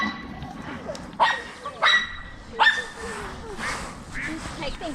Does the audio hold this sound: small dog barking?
yes